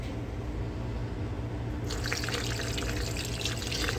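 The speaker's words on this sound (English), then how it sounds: "let's get some water in there." Water poured into the windshield washer reservoir of a 2019 Toyota RAV4 makes a steady close rush of liquid that turns brighter and splashier about halfway through, with no talk.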